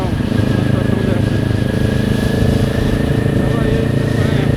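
A Kawasaki Ninja 400 motorcycle engine drones steadily while riding, loud and continuous with constant road and wind noise and no change in pitch.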